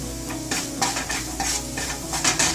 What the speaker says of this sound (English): Mix and stir for about 30 seconds.